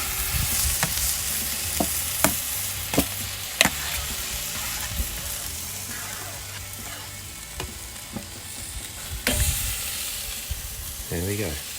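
Sausages sizzle steadily on a Napoleon kettle grill, with sharp scrapes and clicks of tongs as they are turned, continuous frying hiss underneath, close and moderately loud.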